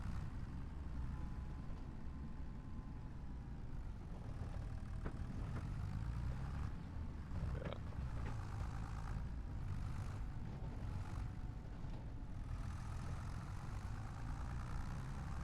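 A tractor engine in Farming Simulator 25 runs steadily at a low, rumbling idle, a dense heavy drone holding constant for the whole stretch with small surges, close and continuous with no talking.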